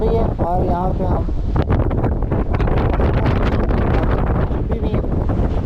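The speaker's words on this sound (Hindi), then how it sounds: "इतनी तेज़ हवा चल रही है" Gusty wind pounds the mic on Hussaini Bridge over a cold river, a heavy unbroken rumble with rising and falling gusts, and a person speaks through it from the start.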